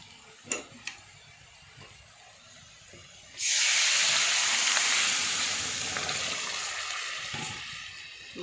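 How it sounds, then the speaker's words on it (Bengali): Spices crackle and sizzle as a tempering of turmeric, chilli, onion, panch phoron and dried red chillies hits boiled potato and lentils, a loud sudden hiss that keeps going steadily after a few faint knocks. "হলুদ লঙ্কা দিয়ে ফোড়ন দেবো, পেঁয়াজ আর পাঁচফোড়ন দিয়ে, শুকনো লঙ্কা দিয়ে"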